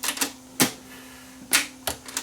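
Technics RS677 cassette tape deck with a faulty eject mechanism, giving a handful of sharp mechanical clicks and clunks at irregular intervals over a steady low hum, close and fairly loud.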